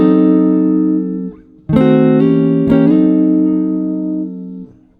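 Guitar diminished 7th chords moving up a half step and then a whole step, each chord sustained and clearly ringing, with short breaks between changes and a clean tone.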